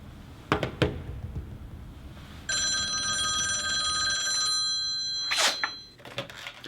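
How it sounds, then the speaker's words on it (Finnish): A telephone rings during a phone call in a Finnish school graduation comedy sketch, a steady electronic ring lasting about two seconds after a few knocks, followed by a loud clatter as the call is picked up. "Avataan puhelinyhteys Vilille"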